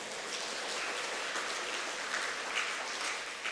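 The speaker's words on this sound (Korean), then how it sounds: "이럴 때 박수가 안 나옵니까?" A church congregation applauds during a Sunday worship service, giving an even, full wash of clapping for several seconds with no talking.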